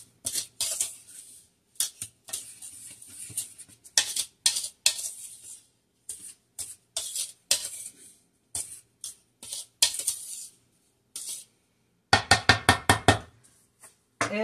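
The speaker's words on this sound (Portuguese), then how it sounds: "Agora eu vou misturar os ingredientes secos." A utensil stirring and knocking against a bowl while dry ingredients for broas de milho corn bread are mixed, with irregular scraping clinks and a quick run of rhythmic taps near the end, close and fairly clear.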